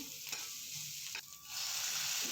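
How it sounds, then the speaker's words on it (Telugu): Garlic cloves, onions and green chillies fry in hot oil in a pan, a close, steady sizzle with a few stirring scrapes and no talking. "ప్యాన్ హీట్ ఎక్కాక కొద్దిగా ఆయిల్ పోసి ఆయిల్ హీట్ ఎక్కాక వెల్లుల్లి రెబ్బలు, ఆనియన్స్, అలాగే పచ్చిమిర్చి"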